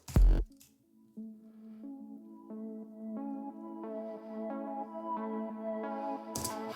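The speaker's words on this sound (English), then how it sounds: "So this is just a very simple ARP preset. I believe it's from Choreographs," A synth arpeggio preset from the Slate and Ash Choreographs plugin, a steady run of plucky stepped notes climbing and layering brighter over several seconds, heard alone after a brief low thump at the start.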